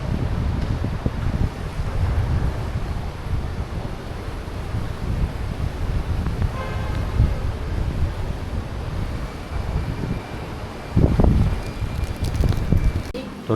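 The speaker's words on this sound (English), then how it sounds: "Very good, windy here." Wind blows steadily at a beach condo in Pattaya, heard as a constant low rumble and buffeting against the microphone, with a stronger gust late on.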